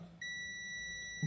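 A multimeter on continuity test beeping while probing a line filter coil through its fuse, one steady high-pitched tone that starts abruptly and holds, close and clear, with a faint thump at the end.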